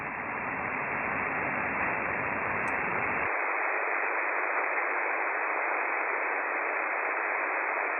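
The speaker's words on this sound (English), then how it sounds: "A little bit of noise in this band." Steady static hiss from an amateur radio band on a livestream runs the whole time. A deeper rumbling layer drops away after about three seconds, leaving a thinner constant noise, with no voices.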